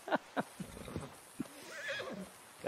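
A horse in Red Dead Redemption 2 gives short snorts and a whinny, with a few hoof clops mixed in, fairly quiet and close.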